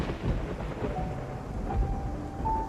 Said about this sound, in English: followed by a single clap of thunder